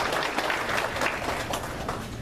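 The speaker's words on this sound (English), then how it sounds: "a round of applause" A room of people at a local gathering gives a reporter a round of applause, dense continuous clapping from many hands, fairly loud and close, filling the full two seconds without speech on top.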